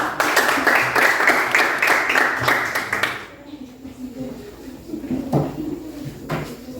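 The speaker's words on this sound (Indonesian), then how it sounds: "Kita berikan aplaus dulu buat kelompok 4" Applause for a student group in a classroom during a chemistry lesson, a burst of many hands clapping for about three seconds before it fades into room noise and scattered movement.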